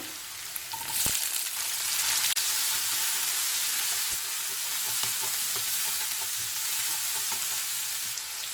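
Onions and tomatoes sauté in a pan tempered with cinnamon and fennel for a Chettinad jackfruit seed masala, producing a loud, continuous close sizzle broken by a few sharp clinks of a stirring spoon, with no voices.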